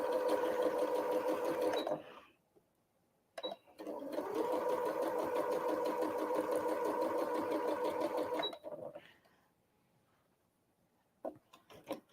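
A sewing machine chain piecing quilt blocks runs in steady, rapid stitching bursts, one about two seconds and a longer one of about five seconds, with quiet pauses and soft handling clicks between them.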